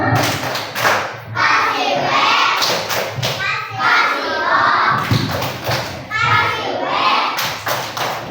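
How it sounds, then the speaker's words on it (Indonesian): Children in a third-grade primary school classroom clap rhythmically for a group, sharp hand claps and thumps coming in patterned bursts, with young voices chanting and calling out between and over them. "kita kasih tepuk tangan dulu untuk kelompok 2"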